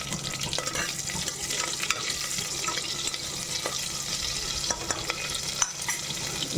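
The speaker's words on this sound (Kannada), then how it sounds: "ಇದು ತುಪ್ಪ ಎಲ್ಲ ಕಾದ್ಮೇಲೆ ಸಾಸಿವೆ, ಜೀರಿಗೆ ಮತ್ತು ಒಣಮೆಣಸಿಕಾಯಿ ಹಾಕ್ಕೊಳ್ತಾ ಇದ್ದೀನಿ." Mustard seeds, cumin and dried red chilies sizzle and crackle in hot ghee, a steady close frying hiss with scattered pops and occasional stirring, no voices.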